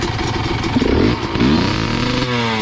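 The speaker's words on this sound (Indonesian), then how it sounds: "Untuk manasin Ninja paling tidak sampai 7000 rpm agar super kit membuka dan kotoran terbuang." A Kawasaki Ninja motorcycle engine revs loudly up close while warming up, with two sharp throttle blips rising and falling over a rough, steady idle.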